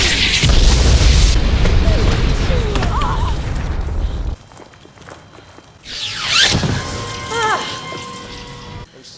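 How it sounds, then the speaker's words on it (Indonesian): An explosion destroys a biochip in the 2001 elevator thriller film The Shaft: a loud, sustained broadband blast roars for about four seconds, then cuts to quieter debris rumble and rising squealing tones. "Ledakan itu mengirim Mark kembali ke koridor dan kabel menjatuhkan tubuh Gunther."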